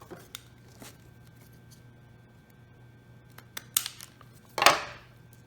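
A plastic strip is trimmed at the end while repairing broken plastic on a headlight bracket, giving a few sharp snips close by, the loudest one near the end, over a faint steady hum and light handling ticks.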